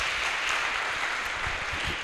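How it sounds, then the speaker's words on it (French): Audience applause at a public gathering in Lubumbashi, a continuous wash of clapping at fairly low level, brief and unbroken, with no talking. "On l'applaudit fort, Chouchou."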